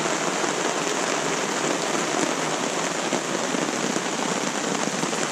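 Steady rain falls on a riverside campsite along the French River during a canoe trip, a dense, even hiss of drops on tents and ground with no break and no voices.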